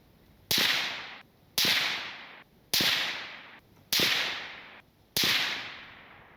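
Five suppressed 5.56 rifle shots, fired through a B&T XH RBS Ti titanium suppressor from a bipod at a 100-yard range, crack sharply at even intervals of about a second, each with a short decaying echo.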